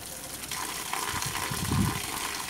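Water poured onto a potted plant with dry soil, a steady low splashing gush that swells briefly near the end, heard up close with no talk.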